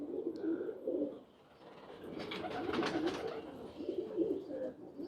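Pigeons coo on a rooftop in low, throaty repeated calls that rise and fall close by, with faint chirps and rustling in between.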